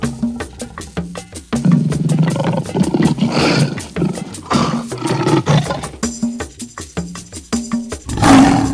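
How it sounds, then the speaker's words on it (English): A lion roars in a series of deep, rough, rhythmic grunting bursts, loud and close, repeating several times with short pauses between them and no talking. "It's a lion."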